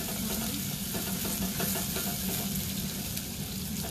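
Garlic, green chilies and ginger stirred into hot ghee in a pan while cooking gatte ki sabji, giving a dense continuous sizzle with scraping stir sounds throughout, close and loud, with no talking.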